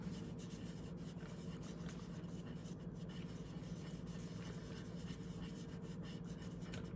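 A baby wipe rubbed across water soluble crayon marks on paper gives a very faint, steady scrubbing friction close to the mic, with no voices.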